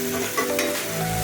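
Spice masala sizzling in oil in a pan for a stuffed aubergine curry, a close, steady frying hiss with light stirring.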